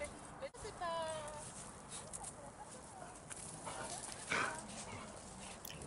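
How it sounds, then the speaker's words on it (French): A puppy gives a short yelp followed by a low growl during play on a training field, faint and mixed with scuffling, footsteps and other barking-like noises, with people talking nearby. "Je ne sais pas si vous avez entendu le petit cri suivi d'un grognement de Baïn."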